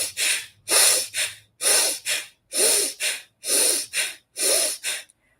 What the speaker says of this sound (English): you're going to take a breath in quickly and breathe out quickly